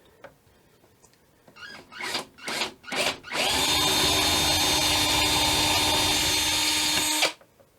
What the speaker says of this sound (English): we're just going to go ahead and drill in there carefully